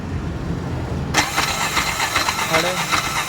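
A Bajaj BS4 auto rickshaw engine with a self-starter problem cranks and catches abruptly, then settles into a loud, close, rattling idle while people talk nearby.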